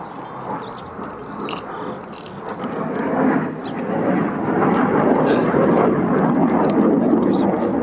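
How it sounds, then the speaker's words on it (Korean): A fixed-wing airplane flying overhead outdoors in the countryside, a broad steady engine roar that swells over several seconds, with people talking beneath it. "비행기가 다 와가지고."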